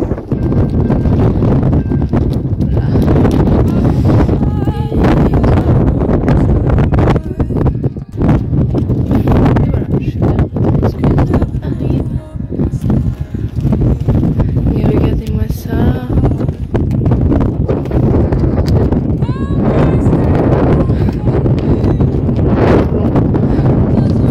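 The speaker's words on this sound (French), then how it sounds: "Je pense que vous allez plus entendre le vent que ma voix." Wind buffets a phone microphone outdoors on a sunny day, a loud, continuous rumbling roar with irregular gusts and bumps throughout.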